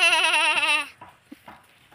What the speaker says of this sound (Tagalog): baboy at saka kambing.